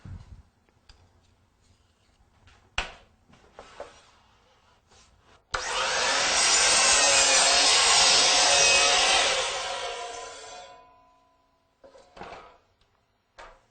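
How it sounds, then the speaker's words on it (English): A DeWalt DW718 double-bevel sliding miter saw spins up and cuts through wood in one loud, sustained pass of about five seconds, then winds down, with light handling clicks before and after. "Just like that, I'm ready to cut."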